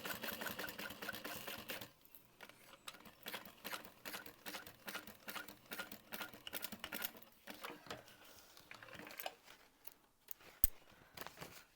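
A sewing machine top-stitches a quilted bag in quick, quiet runs of rapid needle clatter, with short pauses between bursts.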